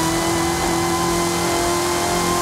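Steady, continuous car engine drone from a player's vehicle being driven in Forza Horizon 5, a flip car build, holding a constant pitch with a broad noisy roar, loud and close, with no voices.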